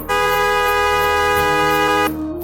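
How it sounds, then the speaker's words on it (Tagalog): A car horn blares in one long, loud, steady honk that cuts off after about two seconds, close and alone with no voices. "Bumusina ako ng paulit-ulit."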